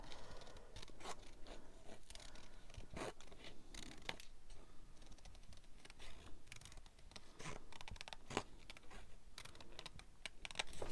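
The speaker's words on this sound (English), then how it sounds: "Let me just trim this down a bit." Scissors trim paper for a junk journal page, giving faint, quick, repeated snips and crisp clicks close by, spread irregularly across the quiet clip.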